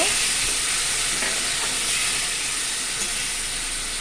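Spices in hot oil, with turmeric, chili powder and salt, sizzle steadily after a splash of water for potol ghonto, a dense continuous hiss and frying crackle close by, with no talk.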